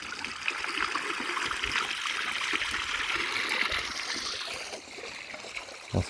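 Icy water flowing steadily where sheep drink outdoors, a continuous near babble and trickle that holds level for about five seconds before easing briefly near the end.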